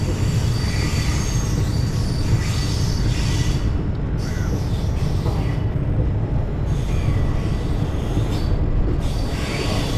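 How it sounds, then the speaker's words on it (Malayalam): The Netravati Express, running from Thiruvananthapuram to Lokmanya Tilak, rushes past close by with a loud continuous rumble of wheels on rails and occasional squeals, steady for the whole stretch. "തിരുവനന്തപുരത്ത് നിന്ന് ലോകമാന്യ തിലകിലേക്ക് എല്ലാ ദിവസവും സർവീസ് നടത്തുന്ന നേത്രാവതി എക്സ്പ്രസ് ആണ് കേട്ടോ"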